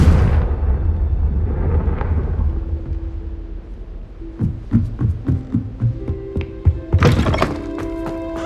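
A Confringo spell explosion in the Hogwarts Legacy video game opens with a loud, deep boom that rumbles away over about two seconds. A rapid series of sharp thuds, cracks and clattering debris impacts follows, with no voices.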